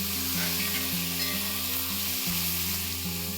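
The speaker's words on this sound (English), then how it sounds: "I'm going to fry these onions till they are nice golden brown and crisp." Finely sliced onions frying in a pan for an aloo chicken curry, a loud, continuous sizzle with stirring and a steady hum underneath, no talking.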